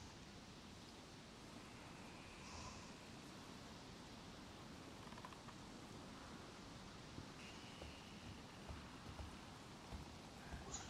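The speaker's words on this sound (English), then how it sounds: "Another storm's already coming in. There's the rain." Steady rain hissing down in the survival video game DayZ, a continuous broadband wash with faint scattered drops, heard alone at an even level throughout.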